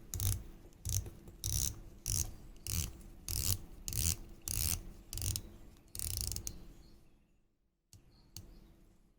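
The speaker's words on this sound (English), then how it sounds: "The watch has a 120 click unidirectional dive time bezel." Unidirectional dive bezel on a 2021 Certina DS Action Diver, 38mm, aluminium insert, 120 clicks, turned in a steady run of about a dozen crisp ratcheting clicks, close and alone, then a brief pause and a few more.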